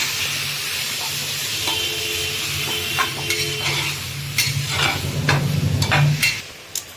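Vegetarian daliya khichdi with spice is stirred in a pan over high flame, a steady sizzle under repeated scrapes and clinks of a spoon against the pan, close and fairly loud.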